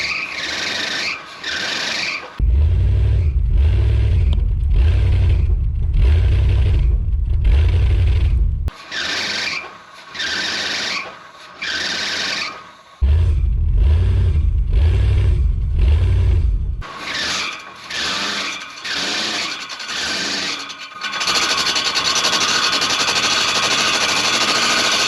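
An old Chevy cube van with a gas leak idles, then grinds and whines while shifting into reverse and forward, throwing loud rhythmic knocking, humming and squealing mechanical noises close to the microphone.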